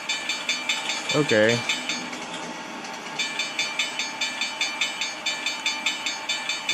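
A tram passes a grade crossing in the Trainz railway simulator, with steady rhythmic clicking and ringing pulses and a low rumble of rail traffic. A single short spoken word comes early.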